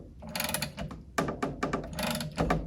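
Half-inch ratchet turning against the bolts on a Mercruiser outdrive lower unit, giving a run of close, rapid mechanical clicks and clattering bursts in irregular spurts, with no talk.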